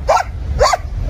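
A dog gives two loud, close barks about half a second apart, with a low rumble of background noise between them.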